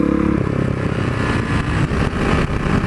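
Small Honda CRF off-road motorcycle being ridden, its engine buzzing and revving close by in a short, loud, continuous burst with no talk.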